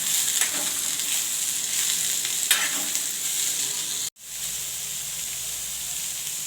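Finely chopped onions sauté in a pan with a continuous sizzle and hiss, broken by a few stirring scrapes and a brief cut near the end before the frying resumes, with no voices.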